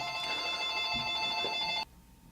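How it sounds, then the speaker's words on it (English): An electronic telephone ring sounds in a home workshop during a South Bend lathe restoration, a steady warbling tone held for nearly two seconds before cutting off abruptly, close and clear. "Phone rang."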